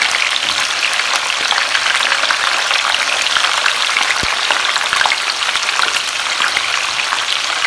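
Bell pepper and onion fry in a pan for a seafood escabeche, giving a steady, close sizzle with crackling spatter and one brief knock partway through, no voices.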